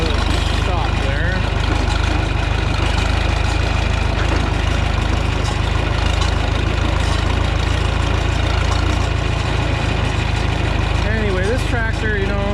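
John Deere 3010 gas tractor engine running steadily, a loud close rumbling drone throughout with faint intermittent voices under it.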